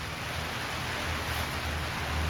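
Steady rain patters on the roof and plastic sides of an inexpensive greenhouse, a dense even hiss heard from inside, fairly soft and unbroken, with no voices.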